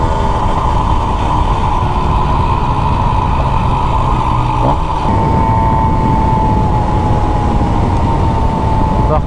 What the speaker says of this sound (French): je disais que le kit 180 faisait du bruit, mais là, en fait, c'est pareil. C'est pareil. Un bruit de sifflement là, terrible